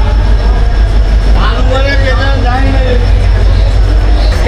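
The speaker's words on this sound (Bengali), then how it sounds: "অলমোস্ট সাঁতরাগাছি ঢুকিয়ে দিয়েছে আমাদের ট্রেন" Passenger train pulling into a crowded Santragachi station, heard from inside a coach as a loud, constant low rumble with a voice talking over it.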